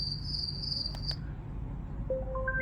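Night cricket ambience plays from a small gadget speaker, a thin high chirping tone that stops abruptly, followed by a few rising electronic beeps over low room hiss.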